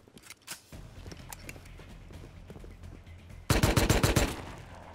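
Rapid automatic gunfire bursts from a video game where an AK is in play, a short stuttering volley then a loud sustained burst of fast shots near the end, over a low steady background rumble.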